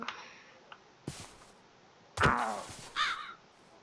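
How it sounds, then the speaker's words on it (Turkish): A crow caws in a Minecraft horror mod, with a loud harsh caw and a second shorter one near the end, following a couple of sharp knocking thuds over a quiet game background. "Oo karga."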